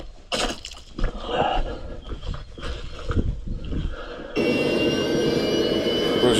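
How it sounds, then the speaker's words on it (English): An air bike flying vehicle plays from a video: a rough, fluctuating roar with bursts of wind-like noise gives way to a steady, loud jet-like whine over the last two seconds. "This is the air bike."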